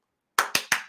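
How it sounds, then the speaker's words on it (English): Three sharp hand claps in quick succession after a moment of silence, close and loud, each one a crisp burst. "I need to get some hand claps going and shit like that"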